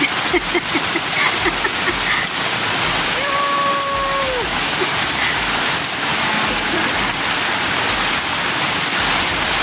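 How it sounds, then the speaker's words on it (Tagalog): Rain falls hard outdoors during a gathering, a loud continuous rushing hiss like pouring water, with a brief tonal whistle or voice rising over it midway and faint talk in the background. "Ang saya-saya pag umulan."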